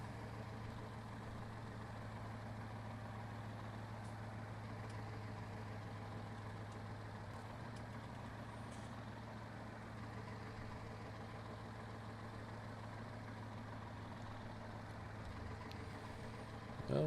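An old tractor engine idles in Farming Simulator 19, a steady low droning hum running unchanged and alone for the full length.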